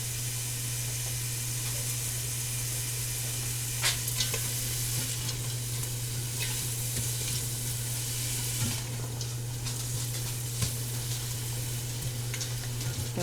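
Vegetables sizzle and fry in hot oil in a pan while being stirred, a constant loud crackling hiss with occasional scraping stirs, close up and steady, no talking.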